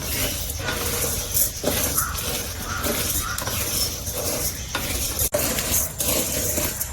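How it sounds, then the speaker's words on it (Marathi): Chana dal dry-roasting in a pan for besan ladoo, stirred continuously so a steady scraping, rustling texture runs throughout at close range, with one brief sharp knock near the end. "चण्याची डाळ बरी भाजा होईल"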